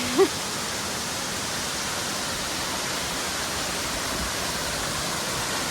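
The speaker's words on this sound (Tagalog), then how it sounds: "Nandito na kami sa pangalawang falls." Bugtong Bato Falls, the second falls along the trail, roars as a constant, dense rush of falling water, close and loud and unbroken for the whole stretch, with no voices.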